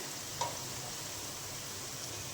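Wheat flour jalebis sizzle in hot oil over a medium flame, a steady, even hiss of frying with one faint clink from stirring partway through.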